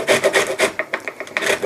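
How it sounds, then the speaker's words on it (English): Orange peel is grated on a box grater in a home kitchen, producing a quick run of close, rasping scrapes in a steady back-and-forth rhythm, with no voices. "we are going to grate the orange"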